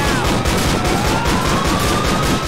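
Steady dense gunfire from a Striker shotgun in GTA IV: The Lost and Damned, a continuous loud barrage of game shots with a faint tone gliding through the mix.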